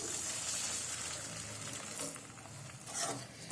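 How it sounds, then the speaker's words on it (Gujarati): Water gushes into a hot pan of whole-brinjal curry with a steady hissing sizzle and some stirring scrapes, fairly close and continuous. "તો હવે આપણે તેની અંદર 1 ગ્લાસ જેટલું પાણી એડ કરીશું."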